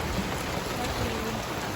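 Steady rain pours outside as a dense, even hiss that fills the whole moment, with no distinct drops or pauses and no talking.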